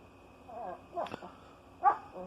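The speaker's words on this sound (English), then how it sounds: "he makes all kinds of weird sounds when he's playing with this dog." A dog lets out a few odd playful yips and grumbling whines, short bursts separated by pauses over a quiet low hum.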